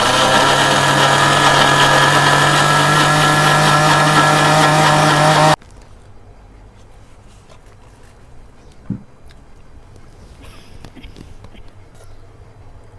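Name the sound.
mixer grinder grinding mint and coriander chutney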